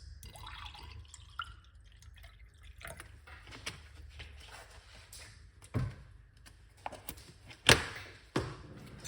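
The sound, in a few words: pouring water into a cup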